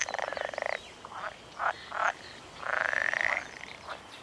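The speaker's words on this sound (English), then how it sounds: "we've been serenaded by the pool frogs" Pool frogs croak in a series of buzzy, rattling calls, a long one at the start, several short bursts, then another sustained trill, close and clear with quiet between.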